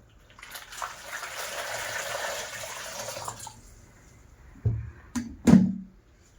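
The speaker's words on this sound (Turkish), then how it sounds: "Şimdi sıcak suyumuzu döküyorum." Hot water pours steadily for a few seconds while making sourdough bread, then stops, followed by a few close clattering knocks and thuds.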